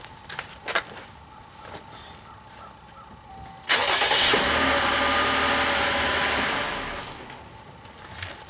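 A car engine, started remotely from the key fob, cranks and catches midway through, roaring to life loudly and then settling into a steady idle, preceded by a few faint clicks.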